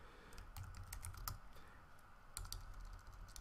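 Keys clatter on a computer keyboard in quick, uneven bursts, close and fairly quiet, with a brief lull in the middle before the typing picks up again.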